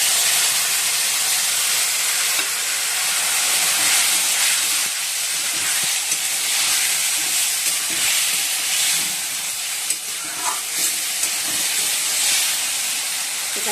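Spice paste of ginger paste, green chilli, turmeric, tomato, cumin and coriander powder sizzles as it hits fried potatoes in a pan, a loud continuous hiss with crackles running throughout.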